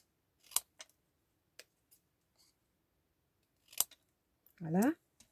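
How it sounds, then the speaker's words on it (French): Scissors snipping around the outline of a handmade seasonal card, sharp close clicks in sparse irregular bursts, with a short voiced sound near the end. "Là, je viens découper mon contour."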